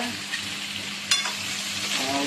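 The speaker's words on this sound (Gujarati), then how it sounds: "શાક શેકાઈ ગયું છે તેલમાં ને લસણમાં, મસાલામાં." Vegetables frying in oil with garlic and spices, a steady dense sizzle throughout with one brief sharper crackle partway through, close and fairly loud with no talk.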